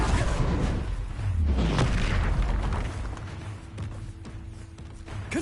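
Heavy booming blasts from the Bombarda spell in Hogwarts Legacy, a deep explosive rumble that swells and rolls on, with lingering low debris and a faint steady hum near the end.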